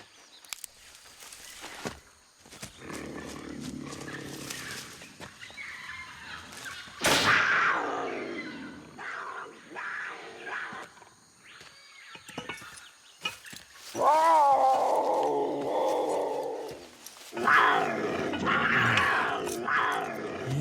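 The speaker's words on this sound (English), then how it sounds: "You won't be surprised to learn this is no garden variety jaguar." A jaguar growls and snarls in several rough bursts, some deep and drawn out, others sharper, close by with quiet gaps between.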